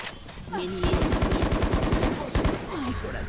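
Rapid gunfire in Valorant, a fast burst of repeated shots lasting about two seconds, loud and close, with a voice talking before and after.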